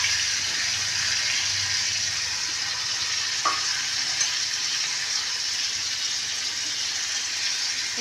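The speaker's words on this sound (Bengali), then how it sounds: "আমি এটা বাটারেই একদম ভেজে ফ্রাই করে নেব।" Chicken coated in masala sizzles steadily in hot butter, a close, continuous frying hiss broken by occasional scrapes of stirring, with no voices.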